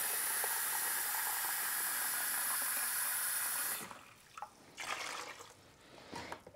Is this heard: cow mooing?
no